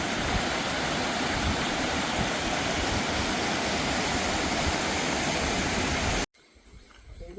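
Stream water rushing steadily at the Ambanad tea estate in Kollam, a dense continuous wash of flowing water close by that cuts off abruptly near the end.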